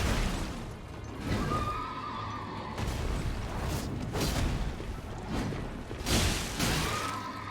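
Several loud horse whinnies ring out over a busy Elden Ring game soundscape, with whooshes and crashes of combat mixed in, one neigh near the start and another later.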